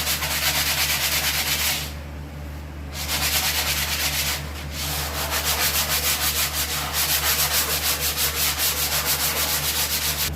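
A coarse sanding block rubs over foam beneath Naugahyde on a wall pedestal, making a continuous, close, loud scraping rasp in rhythmic back-and-forth strokes with two brief lulls.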